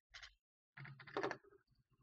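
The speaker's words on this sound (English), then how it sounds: "Sorry that my keyboard's very loud." Loud computer keyboard typing during a Minecraft Bedwars game, a quick cluster of close key clicks followed by a longer clattering burst and a few trailing taps.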